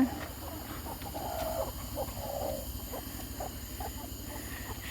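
Brooding hens on a Mississippi farm give soft, intermittent clucks, fairly close but quiet, over a faint steady background hum and no talk.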